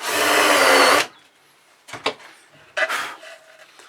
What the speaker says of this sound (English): I'm just going to countersink a little bit into the ply.